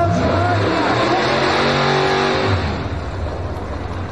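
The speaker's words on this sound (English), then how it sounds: "She started it up and that thing revved to the moon." Drag race car at a No Prep Elite event in Dallas, its throttle stuck open so the engine screams at sustained high revs, loud and steady for a few seconds before settling lower, with crowd and track noise underneath.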